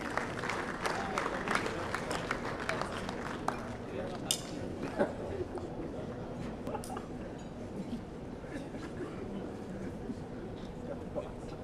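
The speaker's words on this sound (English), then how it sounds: "Please put your hands together as we welcome up here Mr." Audience at an awards ceremony applauds as a hotel sponsor's representative is welcomed to the stage, with sustained, moderately distant clapping and crowd murmur, a few sharper claps standing out, slowly thinning over about twelve seconds.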